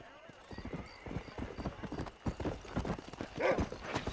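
Rhythmic hoofbeats clop along steadily in the video game Red Dead Redemption, and a horse whinnies briefly near the end, with a voice talking over them.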